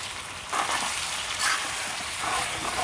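Raw chicken meat dropped into a pan of fried spices with bay leaves for a Bengali deshi chicken curry, giving a steady broad sizzle that swells in loud bursts as pieces hit the hot oil.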